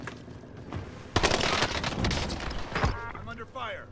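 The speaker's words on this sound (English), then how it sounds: "I'm under fire." Dense, rapid video game gunfire bursts loud and close for several seconds, with someone talking over the shooting and game effects around it.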